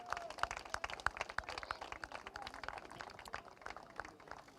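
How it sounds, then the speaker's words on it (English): Applause and clapping ring out for a kart racing podium finisher at the Champions of the Future Euro Series round in Rødby, a dense patter of hands that stays fairly steady throughout. "A huge round of applause for Kian"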